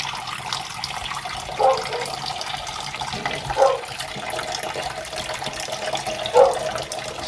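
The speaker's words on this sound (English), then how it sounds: "So we'll just let that do that so it drains out." Water draining from a domestic heating system into a container, a steady faint trickle and splash with a few brief louder gurgles, no voices.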